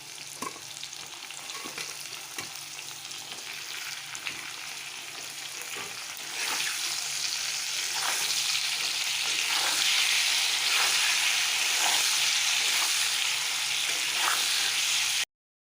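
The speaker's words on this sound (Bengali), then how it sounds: "এখন আমি ঝিঙ্গাটা আর বেগুনটাকে একসঙ্গে দিয়ে আর একটু ভাজা করে নেবো" Ridge gourd, eggplant and potato frying together in a pan, a steady close sizzle that grows noticeably louder and brighter midway, with occasional stirring clicks and no speech.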